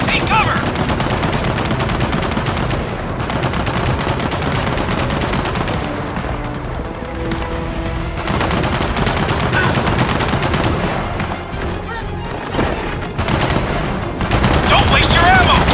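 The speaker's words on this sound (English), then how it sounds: "Machine gun nest!" Sustained machine gun fire rattles from an enemy nest in the Gears of War 4 video game, dense and loud, mixed with explosions and shouted voices throughout.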